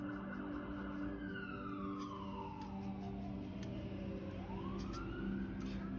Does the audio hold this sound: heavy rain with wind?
no